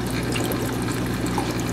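Water pours steadily into an aquarium filter with a foam pad and a piece of live rock, a continuous close, loud splashing and gurgling flow with no talk.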